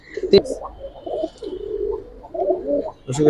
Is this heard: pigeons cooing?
yes